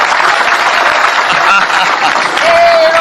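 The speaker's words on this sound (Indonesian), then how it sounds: "tepuk tangan untuk Bung Rocky" A large live audience at a talk event applauds Rocky Gerung, a loud sustained wash of clapping and crowd noise with a few scattered voices mixed in.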